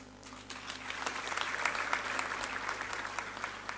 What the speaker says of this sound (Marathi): हे तुमच्या टाळ्या वाजल्या ना